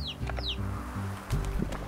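Chickens in the game Slime Rancher cluck in short bursts, close and loud, with a few high chirps over a steady low background of game sound.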